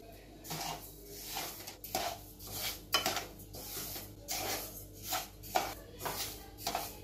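Sticky barnyard millet (vari) rice being lightly roasted in a pan, with soft rhythmic scraping and stirring of a spatula against the pan, repeated strokes about every half second, close and fairly quiet, no speech.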